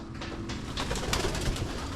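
Pigeons cooing outdoors near a pond at a rural Filipino property, a soft repeated low burbling coo over steady background noise, close by and moderately loud, with no one talking.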